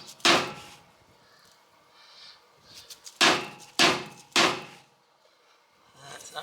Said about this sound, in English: It's not seating with the dead blow, so we're gonna grab the big hammer.